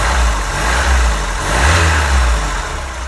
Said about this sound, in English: I just wanted to do that cold start video and let you listen to it running